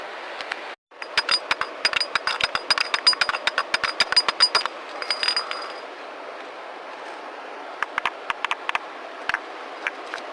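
Sharp metallic clinks and knocks in quick irregular bursts from a hammer striking bedrock while prospecting for gold, with a pause midway and scattered strikes afterward.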